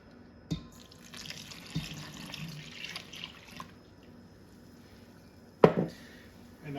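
Milk is poured into a bowl for a chocolate pudding layer, a soft, faint liquid trickle lasting a few seconds, framed by a couple of sharp clunks of a container nearby.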